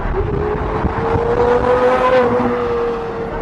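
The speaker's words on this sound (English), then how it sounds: "That is the loudest car ever!" A Pagani supercar engine roars loudly and steadily, its pitch climbing slightly as it revs, with no voices over it.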